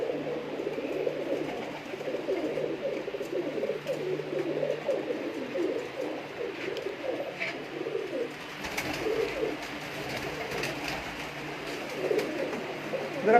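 Rare breeder pigeons in Sheikhupura coo continuously in soft, overlapping, throaty rolls, close by, with a faint voice briefly in the background.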